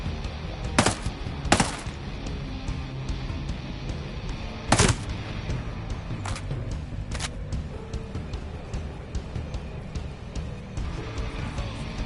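Gunfire from the shooter game Ghost Recon Breakpoint: several sharp, loud shots in irregular bursts, spaced apart over a constant hum of in-game ambience.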